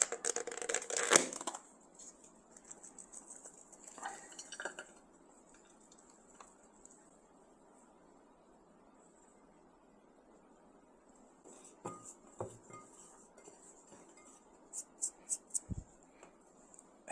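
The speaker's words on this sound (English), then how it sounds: "Here's our seasoning mix, and let's just roll these pieces of meat here." Dried meat pieces rolled in a bowl of seasoning mix containing powder and red paprika, with faint scattered ticking, scraping and clinking contacts, a louder burst near the start and a few sharp taps toward the end.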